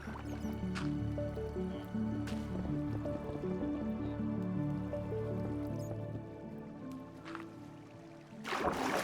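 Water flowing and trickling in Minecraft, a soft steady run of drips and gurgles under faint game music, with a brief louder splash at the very end.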